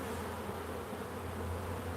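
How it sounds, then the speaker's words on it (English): Honey bees swarm over a frame lifted from a hive during an inspection, forage bees and nurse bees, making a dense, steady drone that fills the whole span, close and continuous with no voices. "there might be some nurse bees on here, so we'll give them a shake"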